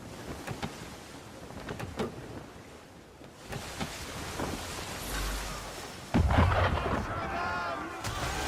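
Gunfire aimed at a ship in Assassin's Creed 3, heavy booming blasts and cracks over rumbling, rain-like noise, with a loud burst near the end.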